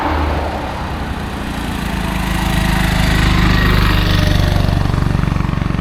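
Motorbike engine on an uphill road in Kenya, a loud, close, buzzing drone that swells and stays steady over several seconds.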